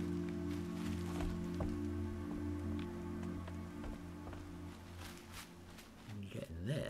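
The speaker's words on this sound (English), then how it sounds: "And there's the rain." Steady rain hisses through a scene in the video game Horizon Zero Dawn, pattering evenly throughout beneath a low hum and scattered small impacts, with a voice speaking over it.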